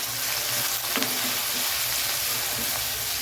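Chopped tomatoes sauté in a hot pan for tomato chutney, giving a continuous loud sizzle and hiss with occasional stirring scrapes.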